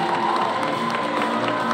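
Audience at a county Teacher of the Year celebration applauding and cheering for the winners and teachers on stage, a steady dense wash of clapping with scattered shouts throughout.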